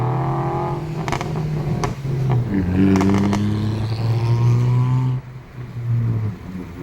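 A car passes along a roadside where firecrackers are going off, its engine hum rising and then fading, with a few sharp cracks and clatters mixed in.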